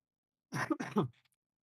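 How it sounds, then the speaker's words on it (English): A single short cough, close and fairly soft, in two quick bursts followed by silence. "I will be coughing occasionally"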